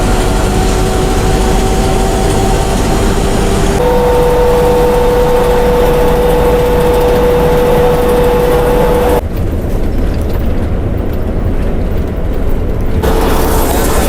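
A luxury bus cruises at speed on the Yamuna Expressway, its engine and road noise forming a loud, steady drone with tonal whines that shift partway through.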